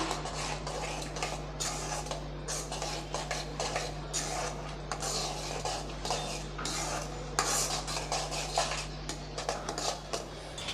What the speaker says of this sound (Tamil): இப்போ இந்த வெள்ளைக்கரசெல்லாம் சேர்த்துக்கலாம் இதில் நல்லா கலந்து விட்றலாம்